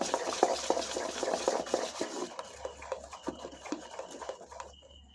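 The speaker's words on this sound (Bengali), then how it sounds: "খুব ভালো করে এভাবে একটু মিশিয়ে নিতে হবে, যাতে মশলাটা এর মধ্যে খুব ভালো করে মিশে যায়।" Spices being mixed by hand into a food mixture in a bowl, a close, steady run of soft scraping, rubbing and stirring clicks that thins out toward the end.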